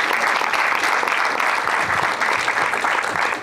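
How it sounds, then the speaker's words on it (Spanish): At a feature-film premiere screening, the crowd claps steadily for a writing-room collaborator, a dense, even wash of applause that holds for several seconds before easing slightly at the end. "Aplauso enorme también, por favor, para Daniel Migraña"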